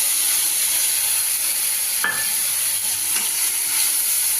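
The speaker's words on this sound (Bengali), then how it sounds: "পেঁয়াজটা ভাজা হয়ে গেছে, এবারে মশলাটা, পেস্ট করা মশলাটা দেবো।" Spice paste of cumin, coriander, chilli and turmeric powders hits fried onions in a hot pan, a loud steady sizzle with a couple of scraping stirs.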